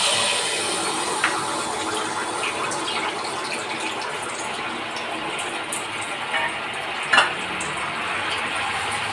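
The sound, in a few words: pitha batter frying in hot oil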